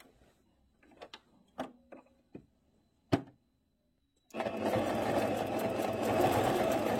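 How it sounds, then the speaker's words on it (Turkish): Sewing machine stitching a coat, a few short clicks and taps at first, then a sustained, steady whirring run from about four seconds to the end. "Bir makine ayağından dikiyorum."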